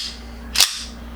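A single sharp gunshot from a Star 30M 9mm pistol loaded with Hornady Critical Defense rounds, a short loud crack over quiet background hum.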